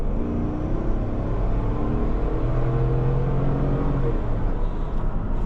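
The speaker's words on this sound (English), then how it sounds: "The V8 sounds pretty good." The V8 engine of a 2025 Chevrolet Tahoe Z71 accelerates in sport mode with a steady, loud low rumble and rising drone, heard from inside the cabin with no talk.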